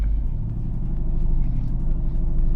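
A 690 hp Mercedes-AMG GT accelerating, heard as a loud, deep, steady engine drone that holds for a couple of seconds without talking over it.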